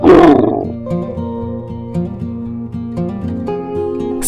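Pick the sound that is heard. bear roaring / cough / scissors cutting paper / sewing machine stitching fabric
bear roaring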